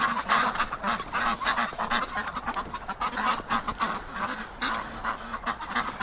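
Muscovy ducks calling inside a barn, a steady jumble of close, harsh honking and quacking from many birds that fills the whole stretch.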